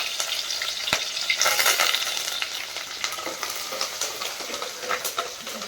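Whole onions cooking for a curry in hot oil, a steady close sizzle and crackle with occasional stirring clatter, held at moderate level throughout.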